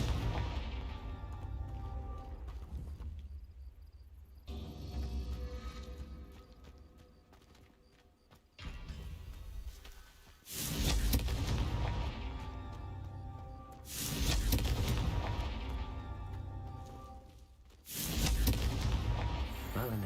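Confringo explosive spell blasts in Hogwarts Legacy, several heavy booming bursts with crashing debris and rumbling tails, spaced a few seconds apart over game music.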